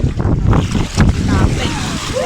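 Waves on Cumbum lake wash and lap against the shore while strong wind buffets the microphone with a rough, constant rush.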